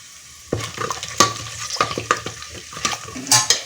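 Whole spices and a bay leaf hit hot oil with a sudden sizzle, followed by crackling pops and a few scrapes of stirring, close and fairly loud, tempering for prawn biryani.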